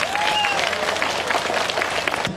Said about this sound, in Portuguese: Então eu quero uma salva de palmas para Itaguajé e para cada um que está aqui hoje.